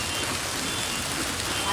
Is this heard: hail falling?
yes